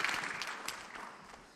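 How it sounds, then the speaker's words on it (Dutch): Audience applause greets the rector magnificus at a Tilburg University lecture and prize ceremony, a loud, dense burst of clapping that tapers steadily over under two seconds, with no one speaking. "Een hartstikke applaus"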